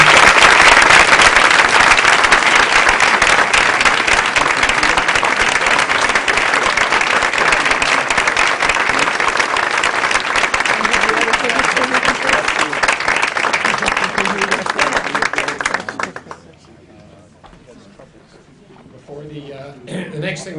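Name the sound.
rousing round of applause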